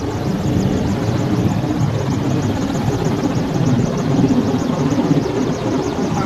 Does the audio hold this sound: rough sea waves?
no